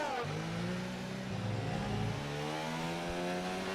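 Race cars in an F1 video game Grand Prix, the United States round, with a steady engine drone from a pack of cars braking toward the first corner, revs shifting up and down, continuous and fairly loud.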